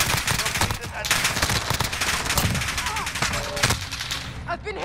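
Dense automatic gunfire in a military shooter video game, loud continuous bursts and rapid shots filling the whole stretch, close and relentless, with a voice briefly audible beneath the battle.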